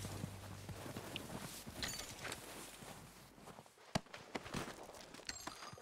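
Horse hooves clopping at a walking pace over ground in the video game Red Dead Redemption 2, fairly quiet, with a few sharper knocks near the end and soft ambient noise underneath.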